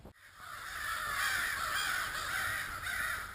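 Several crows caw harshly and repeatedly outdoors, mobbing an owl, their calls overlapping in a continuous agitated chorus at moderate distance with no talking.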